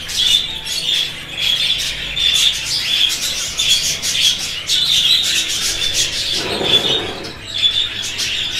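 Pet budgerigars feeding on bird food, giving steady repeated high chirps and twitters at close range with no talking, plus a brief rustle near the end.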